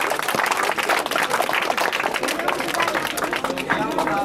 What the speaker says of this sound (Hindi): एक बार जोरदार ताली बता दो भाई